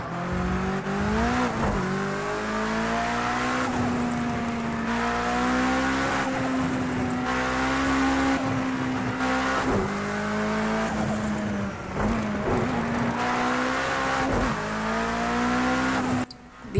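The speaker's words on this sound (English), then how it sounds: "The car sounds in this game are fucking amazing." Racing car engines from the video game Project Cars 2 roar continuously, revving up and down through gear changes with brief tyre squeals, loud and close throughout with no talk.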